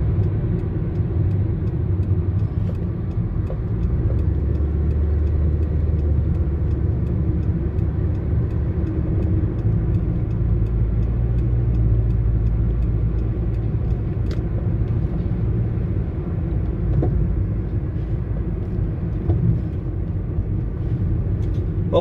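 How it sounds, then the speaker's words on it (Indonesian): A cargo truck on a Saudi Arabian toll road, heard as a steady, loud engine and tyre rumble that persists without a break. "Nah, di depan ini mobil truk yang bawa barang ya."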